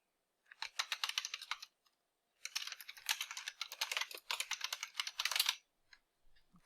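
Close, quick typing on a computer keyboard to log in to an account, with two bursts of rapid clicking keystrokes separated by a short pause, then a few stray taps at the end.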